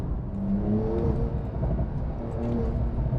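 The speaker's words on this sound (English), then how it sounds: "Some nice pops and bags come from that exhaust." A Porsche 911 accelerates, its engine and exhaust giving a steady, moderately loud rumbling whir with a low droning tone that rises slightly, heard from inside or near the car with no talk.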